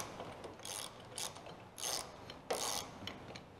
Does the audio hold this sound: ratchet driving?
yes